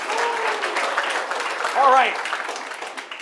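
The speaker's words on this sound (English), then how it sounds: "I'll give Allison a great big round of applause." Applause from the audience at a venture competition awards ceremony, broad clapping that runs throughout while someone speaks briefly over it near the middle.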